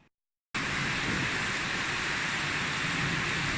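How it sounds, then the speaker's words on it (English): Steady rain falls continuously as an even, dense hiss that starts abruptly after a brief silence and holds at the same level throughout. "It's been continuously raining for about half an hour."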